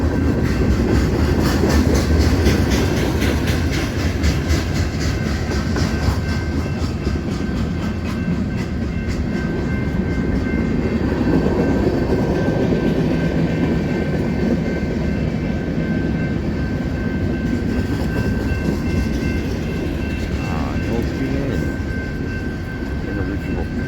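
A freight manifest train rolling past at close range, a steady loud rumble of railcars with rhythmic wheel clatter and a faint tonal whine that continues unbroken throughout.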